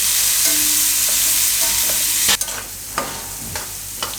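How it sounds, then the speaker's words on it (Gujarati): Diced suran, elephant foot yam, fries in hot oil with a constant bright sizzle, close by, while a spoon scrapes and stirs the pan in a few distinct knocks toward the end. "એને આપણે પકાવી લેવું, વચ્ચે વચ્ચે હલાવતા રહેવું."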